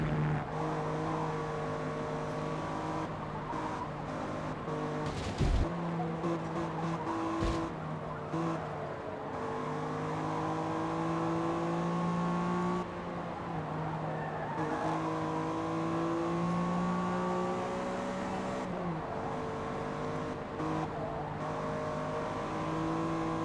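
Race car engines in Forza Motorsport, held at a steady high whine that climbs and dips as the car shifts gears. Several brief bumps and scrapes cut in, and the sound runs continuously and loud without pause.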